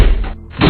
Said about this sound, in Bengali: সে জোরে জোরে দরজা ধাক্কাতে থাকে